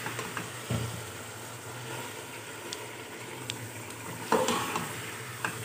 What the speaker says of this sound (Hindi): और अब हम इसमें कीमे को डाल देंगे। ये कीमा इसके अंदर डाल के और इसे अच्छी तरह से भूनें।